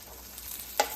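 Tandoori-style mutton chops sizzle in a pan over a medium flame, a brief steady frying hiss broken by one sharp clatter as a piece is turned over.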